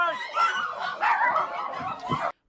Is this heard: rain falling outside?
no